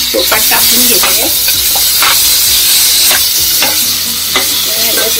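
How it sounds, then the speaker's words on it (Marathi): Green masala paste stir-fried in oil with softened onions in a pot for a shark fish masala, a loud continuous sizzle with repeated scraping strokes of the spoon, close and alone without talk. "व्यवस्थित परतवायची"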